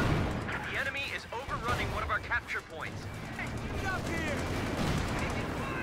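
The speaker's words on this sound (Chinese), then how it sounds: "机枪贴脸压制了大量的步兵" Machine-gun fire in the Company of Heroes 2 strategy game, with rapid, dense bursts and scattered shots rattling through a busy battle soundscape beneath a continuous commentator's voice.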